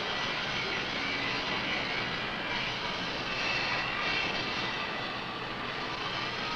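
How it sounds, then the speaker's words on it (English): Inside the Tektronix fabrication and molding plant, a steady, dense industrial roar of complex-parts manufacturing machinery fills the space at an even loudness throughout, with no talk. "This is the sound of Tektronix complex parts manufacturing operation, known as fabrication and molding."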